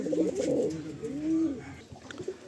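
Fulsira Madrasi pigeons coo close by, low rolling calls that swell and fade twice over a couple of seconds, with faint background noise and no talk.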